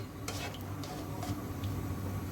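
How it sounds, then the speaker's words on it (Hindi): Onion and tomato frying in oil for a dhaba-style daal, a soft steady sizzle with a few quick spoon strokes against the pan, with no voices. "और अब इन दोनों चीज़ों को मैं ऑयल में फ्राई कर लूँगी"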